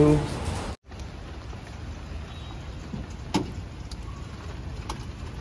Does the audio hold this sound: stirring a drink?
no